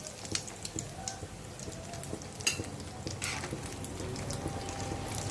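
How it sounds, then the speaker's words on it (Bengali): Fish fry in a pan with a steady close sizzle and crackle, speckled with sharp pops and spatters, and no voices. "আরও কটা ভেজে দেখাচ্ছি।"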